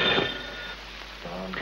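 A telephone rings as a sound effect, a short bright electronic trill at the start with a second brief ring near the end, fairly close and clear.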